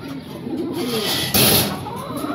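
A breeding pair of Mayna breed pigeons coos nearby in a loft, soft low throaty calls repeating, with a brief louder rustle partway through.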